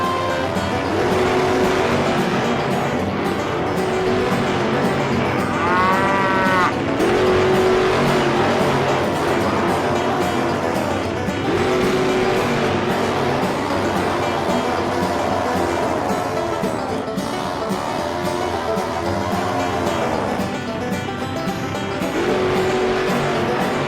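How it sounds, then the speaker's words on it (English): Race car engine sound effects for a children's tractor race rev and roar continuously, loud and close, rising and falling in pitch as cars accelerate, with short tonal beeps now and then. "Get ready for the tractor race. Pick the color of the tractor you think is fastest. Tractors, start your engines."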